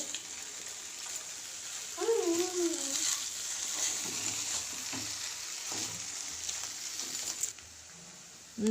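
Egg noodles being stirred and mixed in a frying pan with curry leaves and coriander: a steady, moderate sizzle with soft scraping throughout, and a brief faint hum partway through.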